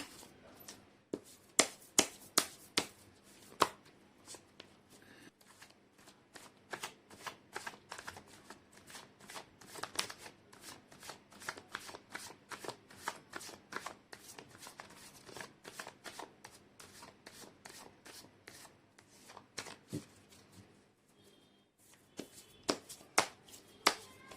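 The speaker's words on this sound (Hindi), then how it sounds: "कर लेती हूँ कार्ड की शफलिंग।" Tarot cards being shuffled by hand in a quiet room, a long run of crisp, rapid riffling bursts with brief pauses between, close and fairly loud, with no talking.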